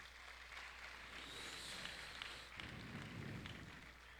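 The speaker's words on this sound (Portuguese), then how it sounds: "Quem pode dar outra salva de palmas para o Senhor Jesus?" Sustained, dense applause from a church congregation praising Jesus, a steady wash of many hands clapping that swells louder partway through, with no talking over it.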